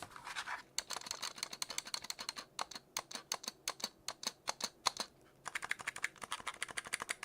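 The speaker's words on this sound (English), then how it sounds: "I think it's a bit noisier with the legs up. The spacebar sounds awesome." Someone types on a mechanical computer keyboard, the switches giving quick, crisp, fairly quiet clicks in uneven bursts, with separate louder spacebar strikes and no talking.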